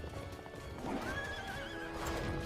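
A cartoon horse clip-clops at a gallop and gives a loud whinny in an animated series, hoofbeats steady throughout with the neigh rising in the middle, alone without talk.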